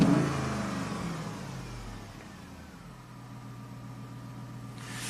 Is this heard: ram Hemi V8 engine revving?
yes